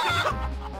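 Cuccos clucking in The Legend of Zelda: Four Swords Adventures, a short burst of chicken-like clucking and squawks, close and fairly loud.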